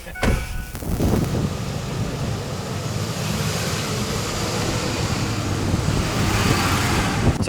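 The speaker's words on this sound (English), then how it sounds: "So Chris, we are on the test track." A Ford on the test track at the Ford proving grounds, its engine and tyre roar steady and close throughout after a brief quieter start, with no talk over it.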